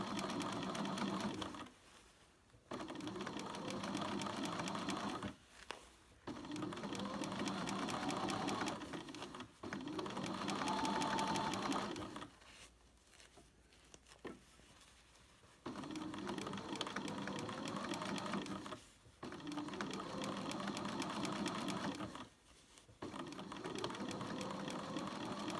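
Sewing machine stitching two layers of fabric for a baker boy cap, running in several steady bursts separated by short pauses, including a brief reverse backtrack stitch to lock the seam; close and alone.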